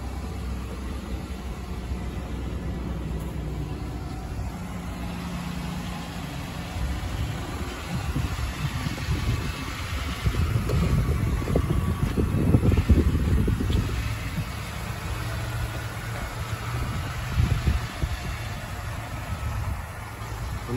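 A 2013 Jeep Wrangler Unlimited Sport S engine runs steadily at idle outdoors in light snowfall, a low continuous rumble heard up close as someone walks around the vehicle, with no talking.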